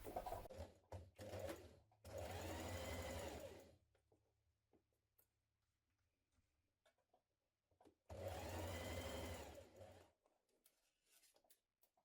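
A sewing machine stitches the V neckline seam of a jumpsuit in two loud, steady bursts of rapid whirring, with a short stutter of stitches before them and quiet handling noises in the pauses.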